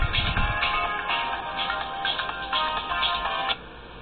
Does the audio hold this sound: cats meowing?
no